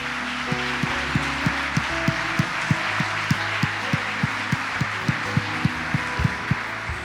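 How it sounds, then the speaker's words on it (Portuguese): Rhythmic unison clapping from a church congregation applauding the Lord, steady evenly spaced claps over a sustained musical backdrop. "Você pode aplaudir ao Senhor?"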